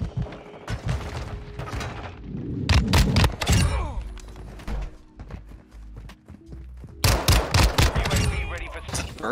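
Fennec two-round burst gunfire in a video game, loud clusters of rapid shots in two heavy bursts with booming impacts between, heard close and alone.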